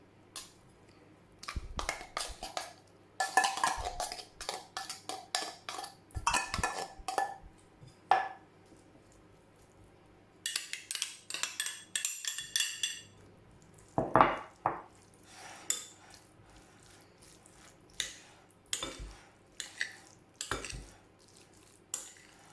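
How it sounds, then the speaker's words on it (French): Moroccan orange salad is tossed in a bowl, with soft wet clinks, taps and scraping bursts that come in irregular clusters between short quiet gaps, close up and with no talking. "Et maintenant je vais tout mélanger"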